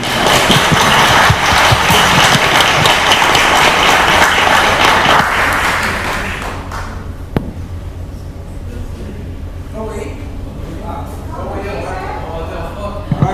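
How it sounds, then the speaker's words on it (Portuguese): A crowd at an architects' and urban planners' congress applauds loudly for several seconds, then the clapping fades out and people begin talking. "uma salva de palmas para todos aqui"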